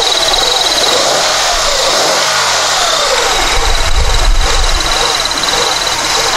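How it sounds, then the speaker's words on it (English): A 1999 Honda Accord with a MAP sensor fault idles close by, its engine note swelling briefly as it revs up before settling back, steady and loud throughout. "this whole idling deal. See if it revs up."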